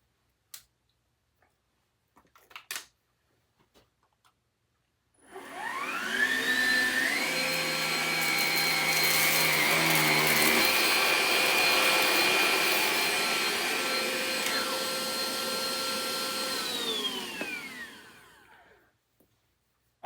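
A Hoover Evolve Pet cordless vacuum cleaner powers up on carpet with a rising whine, runs as a steady loud motor hum for about twelve seconds, then winds down, with a few faint clicks before it starts.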